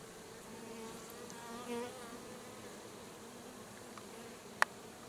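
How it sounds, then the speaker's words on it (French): An Asian hornet (Vespa velutina) flies around near a beehive, giving a faint, steady buzzing hum that swells briefly as it passes close, with a sharp click toward the end. "le Vespa velutina, franchement, depuis tout à l'heure, il tourne autour de moi"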